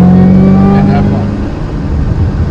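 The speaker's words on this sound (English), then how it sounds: "what you hear more than the exhaust is the whine of the supercharger" Shelby GT500 Mustang engine with a supercharger whine riding over the exhaust, a loud close engine note with a steady high whine that fades slightly, while someone talks over it.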